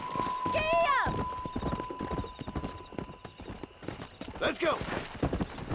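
Horse in the Western video game Red Dead Redemption neighs loudly at the start and again near the end, with steady galloping hoofbeats between and someone speaking briefly over them.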